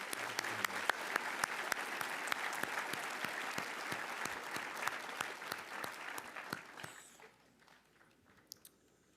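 Audience applause at a 2023 Cushing Academy graduation commencement, steady dense clapping from a large crowd that fades out near the end, leaving a few scattered claps.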